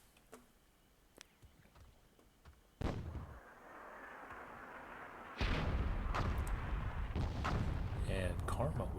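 WWII-era RPG volley and gunfire in Myth II: scattered sharp shots, then a loud blast at about three seconds and a heavier sustained barrage of explosions later, alongside voices.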